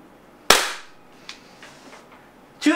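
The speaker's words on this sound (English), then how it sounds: "it shot right in the center and went through the whole thing." A powerful paintball gun fires once, loud and close, into a 326-page magazine, followed by faint clatter and a second sharp burst near the end.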